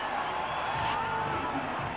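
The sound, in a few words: cricket stadium crowd cheering after a wicket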